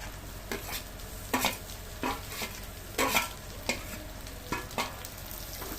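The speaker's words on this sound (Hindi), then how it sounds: "तो इसको हल्की आंच पे हम भूनेंगे अब अच्छे से।" Onions sizzle steadily in a pan over low heat while a spoon scrapes and stirs in regular strokes, each pass adding a brief louder rasp.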